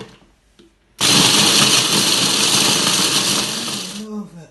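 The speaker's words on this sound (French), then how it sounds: "On va commencer à mixer notre zeste, nos mélanges de zestes et on va les mixer." An electric blender whirs loudly and steadily for about three seconds, grinding a mix of citrus zests, then cuts off. It follows a brief quiet moment.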